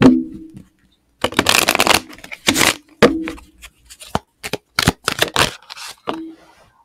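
Several quick bursts of tarot cards being shuffled, crisp riffling flutters separated by short pauses, close and fairly loud, with no voices.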